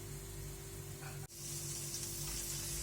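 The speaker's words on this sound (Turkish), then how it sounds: "Biraz daha kavrulmasını istiyorum soğanın" Onions frying in a pan with oil, a steady close sizzle with a brief dip near the middle, no talking.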